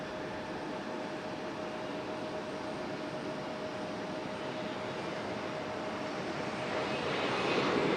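An Aeromexico Embraer E175 jet airliner departs Raleigh-Durham International, its engines a steady broad roar that grows louder toward the end, with no talking.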